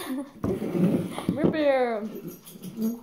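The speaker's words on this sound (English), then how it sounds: "That's our dog." A pet dog indoors makes low growls and rising, whining whimpers close by, heard over people talking at a home dinner table.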